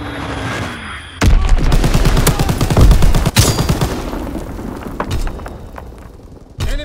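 Enemy bomb strike explosions in Call of Duty WW2, a Domination match on Gibraltar: loud booming blasts hit near the start and middle, with a rattle of gunfire in between and a final boom at the end.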